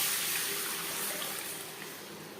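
Water pours steadily into yogurt-based curry pakora batter, a continuous close hiss-like stream that softens slightly toward the end, with no talk.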